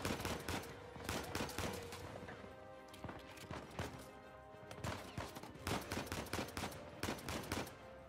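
Rapid volleys of gunfire from the video game Uncharted 4, bursts of shots crackling in clusters with brief pauses between, fairly close and steady in loudness, no talking over them.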